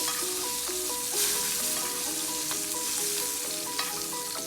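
Mint and pistachio crusted lamb sizzles in a pan while hot fat is spooned over it, a close, steady frying crackle with small spits and pops and faint stirring clinks, no talk.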